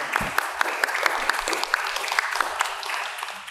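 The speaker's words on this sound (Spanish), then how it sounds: "Entonces, por favor, un fuertísimo aplauso para Clarita." At a poetry recital during a coffee fair, an audience applauds warmly and continuously, with a few sharper individual claps standing out, as the applause slowly tapers at the end.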